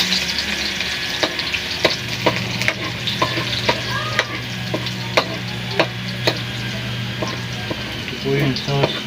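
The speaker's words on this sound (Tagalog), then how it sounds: "Okay, magigisa na tayo ng bawang." Garlic sautés in a pan for carbonara, a steady sizzle of frying with repeated scraping and tapping of a utensil stirring throughout, close and continuous, with faint kitchen sounds beneath.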